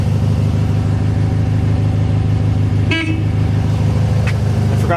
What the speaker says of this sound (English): I forgot to check the horn last night